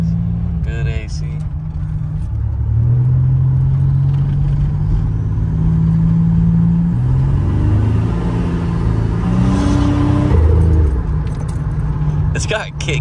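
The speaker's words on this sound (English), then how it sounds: "No one was having blow-off valves like that back then." Turbocharged V6 muscle car, roughly 300 horsepower, pulls hard with a loud, steady engine rumble that rises and shifts pitch through the run, heard from inside the cabin with people talking over it.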